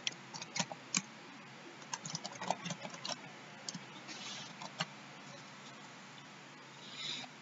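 Fingers tap out a quick burst of keystrokes on a computer keyboard, close and fairly quiet, with uneven pauses between clusters of clicks.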